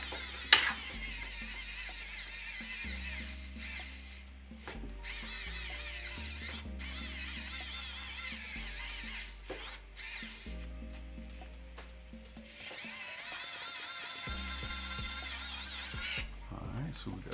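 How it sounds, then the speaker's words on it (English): A power drill whirs through a 3D printer part during an Ender 3 rebuild, running in repeated bursts that rise and fall in pitch with brief pauses, loud and close, with occasional speech mixed in. "Let's see if we can get this thing to drill through it."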